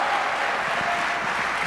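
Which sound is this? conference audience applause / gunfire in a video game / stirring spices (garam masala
conference audience applause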